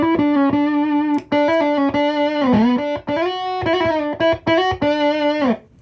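An electric guitar runs through an Ultimate Fuzz Face prototype pedal with added drive and no octave, playing a quick series of loud, buzzing fuzzy notes and short slides, alone with no talk.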